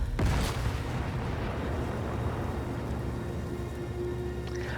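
Cannon fire in Sniper Elite 5 on a Festung Guernsey mission, a single heavy boom near the start followed by a long, dense rumbling roar that stays loud to the end.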